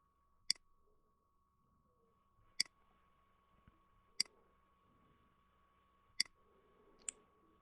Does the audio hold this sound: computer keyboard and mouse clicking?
yes